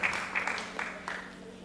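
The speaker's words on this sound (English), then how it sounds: "A round of applause for Father." An audience at a business talk gives a round of applause, a steady wash of claps with several louder bursts, heard from a middle distance with faint voices mixed in.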